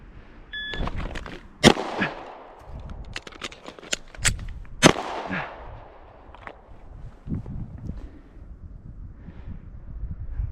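Handgun shots fired during an air marshal qualification drawn from concealment ring out as a handful of sharp, loud outdoor cracks in quick succession, each trailing off, with wind rumbling across the microphone in the quieter stretches.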